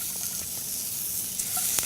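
Steady hot sizzling of shrimp frying in olive oil in a pan, a continuous bright crackle with a few louder pops near the end, no voices.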